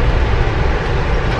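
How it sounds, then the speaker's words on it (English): Interior of a moving passenger train, a dense loud low rumble and steady wheel roar with no distinct breaks. "We are on the train, on a panda train."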